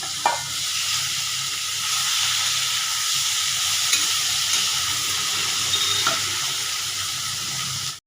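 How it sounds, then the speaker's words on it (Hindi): Prawns sizzle steadily in hot refined oil in a kadhai with turmeric and salt, a continuous loud frying hiss with occasional stirring clinks, no talking. "आम चिंगुड़ी माछटा भाजी दे चिंगुड़ी माछरे हल्दी लुण पकई देती"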